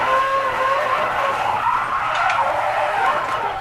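Car drifting in Need for Speed Most Wanted, sustained loud tire squeal and skidding with engine roar throughout, no talk over it.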